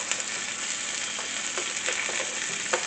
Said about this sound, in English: I'm going to do a quick sear on the carrots